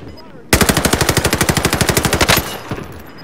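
Video game assault rifle fire: one sustained burst of about twenty rapid, evenly spaced loud shots lasting nearly two seconds, followed by a short tail.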